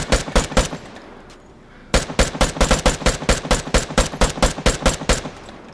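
Rapid gunfire from a sniper setup in the shooter game Vigor, two quick bursts of loud, evenly spaced shots separated by a short pause, close and dominant with no talking.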